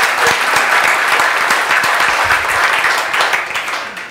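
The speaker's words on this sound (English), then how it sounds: "Come on, clap your hands to the Lord." A church congregation claps their hands in praise, dense sustained applause from many people close by, with a faint voice underneath, fading slightly at the end.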